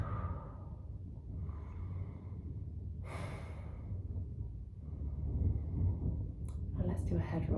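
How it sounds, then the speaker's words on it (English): Slow, deep breaths while seated cross-legged in a yoga session, each audible inhale and exhale rising and falling softly in a quiet room. "3 deep breaths."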